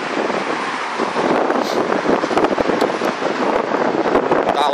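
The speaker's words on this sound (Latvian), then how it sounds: "man atkal mēģina aizpūst vējš" Gusty wind blows straight into the microphone outdoors, a continuous loud rumbling buffet with small bursts of pops and flutter for the whole stretch.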